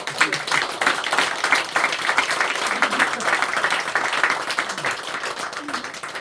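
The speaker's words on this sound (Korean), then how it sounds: "우리 박수 한번 하겠습니다." A church congregation at a Sunday morning service claps for its arts troupe, a steady, full wash of many hands lasting several seconds without letup.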